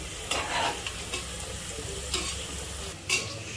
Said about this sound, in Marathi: हे पा आताच टाकले आणि लाल बी होत आले काजू.